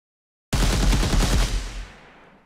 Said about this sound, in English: If you shoot a few and hit the reload, it reloads.